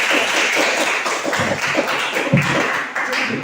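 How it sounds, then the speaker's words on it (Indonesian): A primary school class claps together in a classroom, a steady patter of many hands continuing loud and fairly even throughout, with a few heavier taps standing out. "Tepuk untuk kelas 5B."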